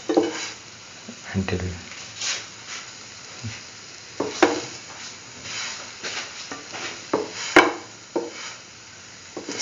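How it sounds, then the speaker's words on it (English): Potato and chickpea flour sandwiches fry in a pan, a steady soft sizzle broken by scraping and clinks of a spatula against the pan, with a brief spoken word. "Do this until all the sandwiches are nicely fried."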